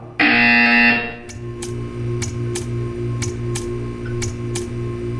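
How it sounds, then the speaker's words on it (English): An electronic buzzer in the video game Portal 2 blares loudly for about a second, followed by a steady hum with regular soft ticking. "You will hear a buzzer."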